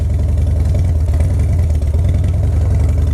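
A Harley Dyna motorcycle engine with a newly installed Barnett clutch runs loud and close at a steady, lumpy idle while being put into gear, the throb continuous and unbroken, with no talking.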